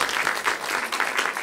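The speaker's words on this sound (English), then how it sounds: "So please give a round of applause to Dr. Stone." Audience applause greets an emergency room doctor invited to speak at a health care event, a steady, dense round of clapping from a crowd that holds at an even level throughout.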